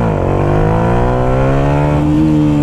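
A loud Yamaha MT-125 motorcycle engine revs up close for a wheelie, pitch rising smoothly as it accelerates, then easing slightly near the end.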